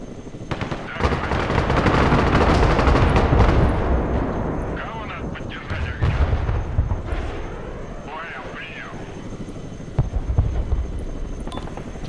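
A Super Cobra attack helicopter moves through a battle in the real-time strategy game Broken Arrow, amid dense gunfire and explosions. A voice talks over the loud, continuous rotor and combat roar.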